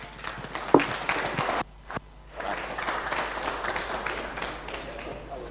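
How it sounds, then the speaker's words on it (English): Audience applause for a race finisher at a motorsport round at Croft circuit, a dense patter of clapping with crowd noise, a brief dip partway through, then steady again. "Round of applause for Ben Brown."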